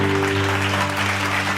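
An audience claps steadily through a Bible study sermon, a dense continuous patter over a low electrical hum, with no talking.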